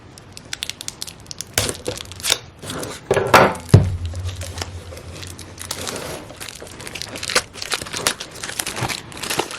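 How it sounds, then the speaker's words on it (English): Crinkly plastic wrapping is torn off a planner and crumpled in bursts, close up, with a sharp rip partway through and quieter rustling afterward. "I am going to unwrap the planner."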